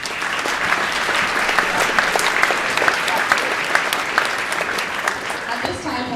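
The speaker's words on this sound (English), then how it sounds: "Let's give them another applause." A crowd claps steadily and warmly after a choir performance at a school Veterans Day celebration, a dense sustained applause that holds for several seconds before tapering at the end.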